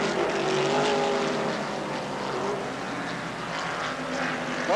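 Race cars at Pocono race track in the 1981 Kelly American Challenge, a steady, loud engine drone sweeping past on the straight, with a rising and falling whine over constant roar and no voices.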